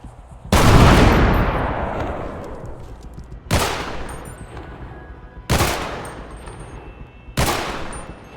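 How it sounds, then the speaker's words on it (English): Video game gunfire from a realistic GTA 5 sound mod: four loud, separate shots at irregular intervals, each with a sharp crack and a long echoing decay like distant shots. "Distant shots have this realistic echo and delay based on how far away they are, just like in actual firefights"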